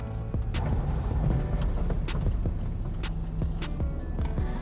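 A 2001 Toyota Soluna GLi reversing, with a low idling engine hum under rolling tyre noise and scattered clicks and knocks, steady and close throughout.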